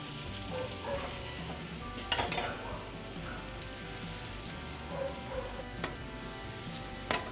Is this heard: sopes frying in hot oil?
yes